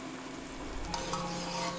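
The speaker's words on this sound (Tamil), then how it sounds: "இந்த ஸ்டேஜில் இப்போ வந்து நல்லா கொதிக்க ஆரம்பிச்சிருச்சு" Tom Yum soup bubbling in a pot on the stove, a steady soft simmering hiss with faint scattered pops and a light clink midway, heard alone with no talk.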